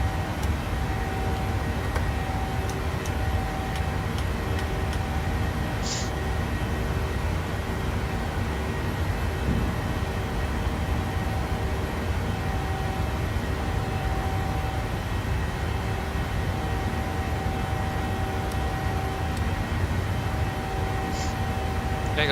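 Jet engines of a PMDG 737-800 climbing toward cruise in Microsoft Flight Simulator 2020, a steady broadband roar with a constant whine, loud and unbroken throughout with no talk.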